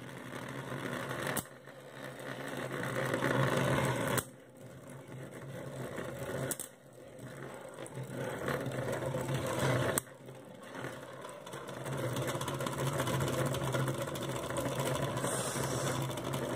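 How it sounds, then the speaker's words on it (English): Beyblade spinning tops battle in an odd-shaped stadium, giving a continuous whirring, ratcheting rattle broken by several sharp clacks as the tops collide, fairly close and without talk. "It's Beyblades. They go click, click, clack, clack in their natural habitat."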